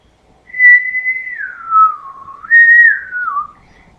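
A single person whistles a clear, wavering melody alone, the tone sliding down and back up over a few seconds against a quiet background.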